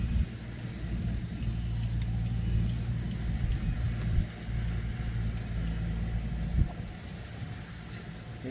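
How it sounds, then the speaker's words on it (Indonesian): Heavy tractor working to clear land, its engine holding a steady low rumble close by with a couple of brief surges, no talk over it. "Ini di sini ada suara traktor apa ya?"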